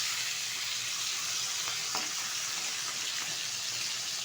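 Cauliflower frying in oil in a home kitchen, a low, even sizzle with faint stirring scrapes, quiet and steady throughout with no speech.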